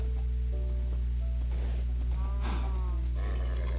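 A horse's hooves patter in a quick running rhythm in a video game, faint and steady over a constant low hum, while a player talks.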